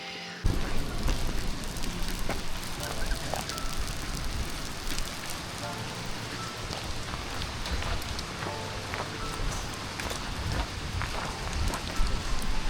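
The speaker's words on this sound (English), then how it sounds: "You getting hit with hail? Cooking at the hailstorm." Hailstones pelting an outdoor cooking spot beneath an old gum tree as a storm hits, a dense continuous rattle of crackling impacts on surfaces, steady and fairly loud throughout with no voices.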